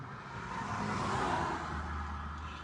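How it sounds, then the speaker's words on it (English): Cars rush past at speed on a road, a continuous broad whooshing roar that swells and fades with engine hum beneath, loud and close, without talk. "all these cars going fast"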